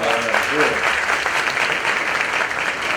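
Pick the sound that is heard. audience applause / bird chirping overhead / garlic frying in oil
audience applause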